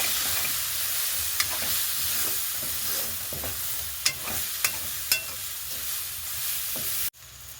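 A spoon stirs a sizzling turmeric mixture in a frying pan, steady loud frying hiss throughout with several sharp scraping clicks against the pan, ending in a brief cutoff.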